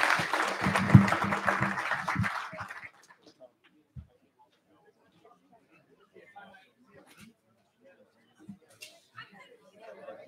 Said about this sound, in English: let's give Tom one last round of applause